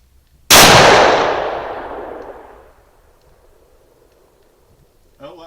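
A single loud, close shot from a Ruger American Gen 2 rifle in 450 Bushmaster at an outdoor range, with a long echoing tail that decays over about two seconds, then a brief clank near the end.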